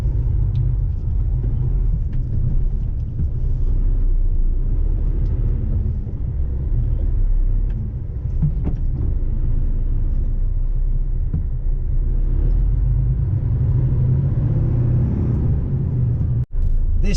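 Low, continuous road rumble fills the cab of a lorry driving through UK traffic on a dark morning, a steady engine and tyre drone with occasional faint clicks and no talking.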